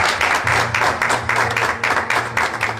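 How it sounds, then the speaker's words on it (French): Audience applause at a church broadcast gathering, dense steady clapping from a crowd in rhythmic swells, close and loud with no talk over it. "que je demande d'applaudir très fort"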